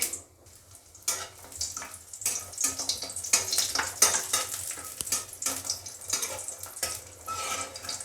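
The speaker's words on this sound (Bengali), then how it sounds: "আমি এখন বড়ি 4টে ভেজে নেব" Four lentil dumplings (bori) fry in hot mustard oil, a crackling sizzle that swells and fades in bursts with stirring scrapes, fairly close and without talk.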